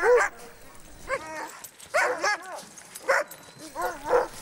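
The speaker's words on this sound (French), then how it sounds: "Les chiens sont nourris avec du castor que nous transportons dans nos traîneaux." Sled dogs bark, yip and whimper while eating beaver meat hauled on the sleds, with several close bursts of barking and whining in an uneven rhythm, separated by short pauses.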